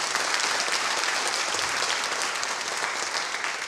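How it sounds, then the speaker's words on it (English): Dense, even applause from an audience at a school athletic awards presentation, a continuous wash of many hands clapping for several seconds. "let's give a round of applause for Principal Jerry and Dallas Luss"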